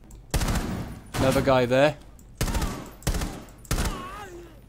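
Rapid assault rifle bursts in Rainbow Six Siege, several short loud volleys spaced through the moment, with a voice speaking briefly between them.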